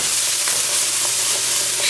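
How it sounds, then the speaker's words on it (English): Garlic and white onions sizzle steadily in a hot pan, a loud, continuous frying hiss with faint crackles and no talking. "So we got that sizzling."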